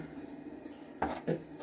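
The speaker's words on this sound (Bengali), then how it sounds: "আবার সেই সবজি কাটছি" Vegetables being cut in a home kitchen: two quick, close knife clacks on a board, a fraction of a second apart, over a faint background murmur.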